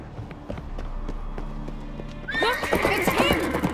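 A horse in the Witcher 3 video game neighs loudly and gallops with rapid hoofbeats, after quieter steady clip-clop; no talk.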